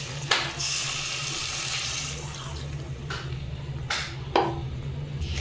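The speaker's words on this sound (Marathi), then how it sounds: "आता यामध्ये पाणी टाकते" Steady running water pouring close by into a pan of chutney for Mysore masala dosa, a continuous splashing hiss with a few clinks of metal, and no voices.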